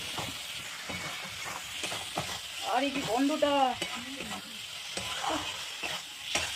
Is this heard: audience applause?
no